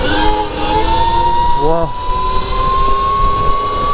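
An Arctic Leopard electric dirt bike pulls away in riding mode 3, its loud, close motor whine climbing steadily in pitch over wind rush, while the rider lets out a brief exclamation.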